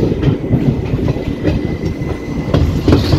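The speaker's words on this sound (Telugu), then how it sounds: "మన ట్రైన్ అయితే ఇప్పుడే పీలర్ స్టేషన్ని వదిలిపెట్టి ఇంకొక ట్రాక్ పైకి అయితే వెళ్తుంది" A passenger train on the Tirupati to Kachiguda Akola Express pulls out of Pilar station onto another track, with a steady loud rumble of wheels and rail joints clicking in an uneven rhythm, heard close from on board.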